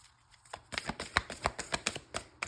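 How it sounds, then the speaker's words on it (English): A deck of cards being riffled and bridged up close, a fast flurry of crisp flicks followed by a string of sharp, evenly spaced snaps. "this deck is kind of harder to shuffle."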